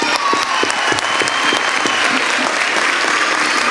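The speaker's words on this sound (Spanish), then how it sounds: "un fortísimo aplauso para vosotros" Loud, sustained applause from a large crowd welcoming the Three Kings at the Fuenlabrada Kings' proclamation event, steady dense clapping throughout with no break.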